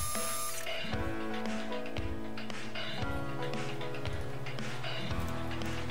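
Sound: machining cuts on a piston for a Chevy 454 big block

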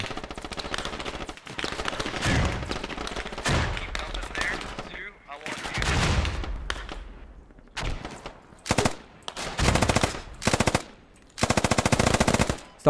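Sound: machine gun fire in the video game Squad

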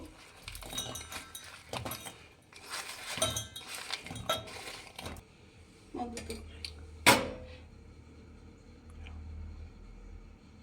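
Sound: putting jaggery into a cooking pot for syrup

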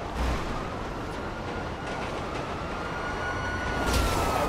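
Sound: train passing in GTA Online video game

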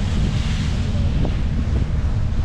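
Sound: wind and waves at the shore

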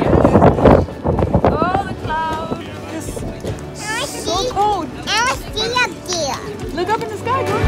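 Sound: wind on mountain top

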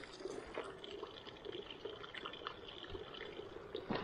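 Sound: water bottle being filled from a mountain stream

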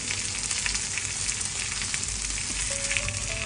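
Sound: food frying in a pan for a bento

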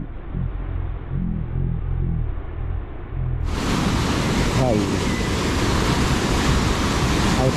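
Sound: fast-flowing monsoon rain water rushing

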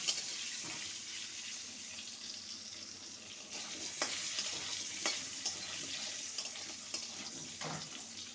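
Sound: potatoes frying golden with turmeric

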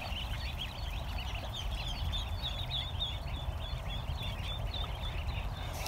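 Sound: ducks

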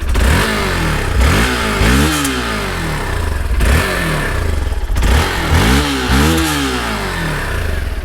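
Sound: Hero Xpulse 200 4V Pro motorcycle exhaust sound

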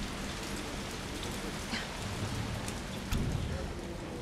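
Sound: heavy rainstorm in video game Resident Evil 3 Remake

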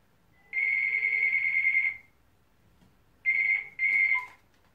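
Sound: mobile phone ringing

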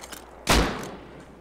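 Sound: gunshots in the video game Rust

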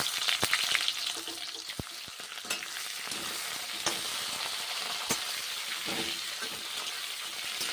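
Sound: raw green bananas frying in pan

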